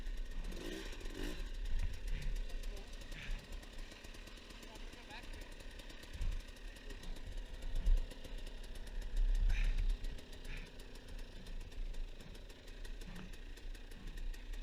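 An enduro motorcycle struggles up a steep hill, its engine droning and revving unevenly at middling distance, with throttle surges and brief bursts over a steady mechanical rumble.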